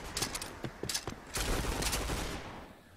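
Rapid gunfire spam in the battle royale game PUBG during a tournament match, bursts of quick shots cracking out in clusters, then a denser stretch of overlapping fire that fades toward the end.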